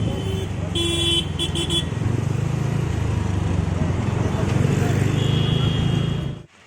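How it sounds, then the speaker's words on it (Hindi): A vehicle drives along a road toward a college, its engine hum and road noise steady and close, with a few short horn toots early on and another tone joining later. "अभी गाड़ी लेके जाऊंगी कॉलेज में"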